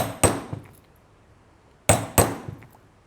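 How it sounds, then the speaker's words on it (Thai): Sharp hammer strikes punching stitching holes through a leather cap front piece, two pairs of hard knocks with short ringing decay and soft follow-up taps, close and alone. "เราก็ตอกต่อมาเรื่อยๆ เลยนะคะอันนี้"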